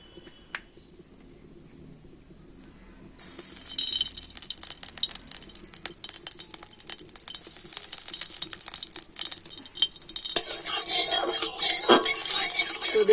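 Melting ghee in a wok on a lit stove: a faint start, then a soft, steady sizzle with scattered clicks and scraping that grows louder and brighter toward the end.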